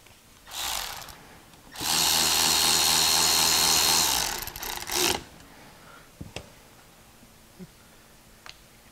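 Power drill driving bolts back into a 1986 Honda Spree scooter that sat outside for years: a short whir, then a sustained loud motor run of a few seconds, followed by scattered clicks and taps of handling.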